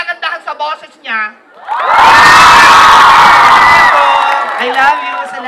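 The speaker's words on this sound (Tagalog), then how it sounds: "Magpalakpakan na nagagandahan sa boses niya." A live concert crowd in Bago City bursts into loud cheering, whoops and clapping after a short bit of talk, the roar holding for about two seconds before easing back as a voice speaks again.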